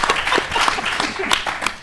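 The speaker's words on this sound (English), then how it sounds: "Round of applause." An audience at a film summit panel breaks into steady, dense applause, a close wash of many hands clapping.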